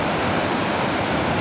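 A river flows steadily nearby with a dense, even rush of water, loud and continuous throughout with no voices.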